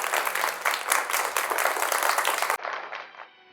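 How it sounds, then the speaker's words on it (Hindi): A church congregation at a convention claps hands together in thanks, a full, fairly loud burst of many hands that cuts off sharply and leaves a quieter tail of clapping that trails away. "हम ताली बजा के परमेश्वर को धन्यवाद देंगे।"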